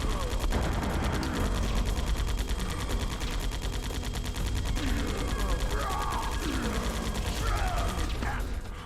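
Rapid repeated gunfire in a Metal Gear Solid: The Twin Snakes boss fight, with steady mechanical clatter throughout, mixed with game sound effects and faint background voices.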